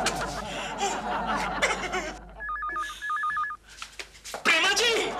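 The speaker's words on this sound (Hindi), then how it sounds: "घंटी टेलीफोन ने बजाई है।" A telephone rings with two clear bursts of an electronic warbling ring, set in a domestic comedy scene; people talk over it before and after, with a brief laugh.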